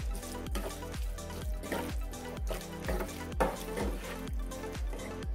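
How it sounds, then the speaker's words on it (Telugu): Cabbage root curry being stirred in a pan, a steady rhythm of about a dozen soft scraping strokes, each with a wet splat of the pieces in masala and a little water, close and alone. "మరొకసారి బాగా కలిపేసుకుందాం"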